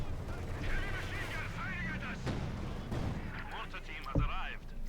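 Mortar fire from a German 250/7 mortar half-track in the Company of Heroes 2 strategy game: game battle noise with sharp thuds and impacts near 2.3, 2.9 and 4.2 seconds, heard under steady commentary.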